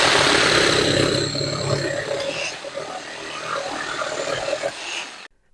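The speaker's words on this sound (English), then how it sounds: "Let's try the same exact test again, except this time with a more aggressive 6 teeth per inch blade" Hart 20-volt cordless jigsaw with an aggressive 6 TPI blade on orbital setting 3, cutting steadily in a loud, continuous rasping buzz that runs nearly unbroken before stopping abruptly at the end.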